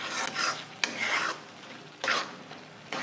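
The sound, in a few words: sautéing onion tomato paste in a pan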